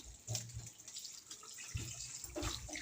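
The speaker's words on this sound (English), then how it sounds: "So the water runs out there." Tap water runs and splashes as mangoes are rinsed in a sink, an uneven stream with soft gurgles and brief louder gushes, close and moderately quiet, with no talking.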